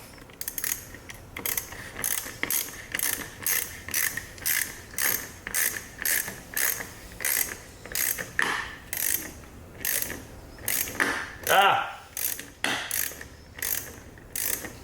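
Recoil starter being pulled so its ratchet pawls kick out, giving a close series of rhythmic mechanical clicking and whirring bursts, about a dozen pulls in a row with short gaps, one louder rattle near the end.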